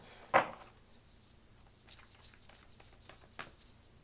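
A deck of cards shuffled during a tarot-style reading, with one sharp riffle burst near the start followed by softer patters and small card taps, close and alone without talk.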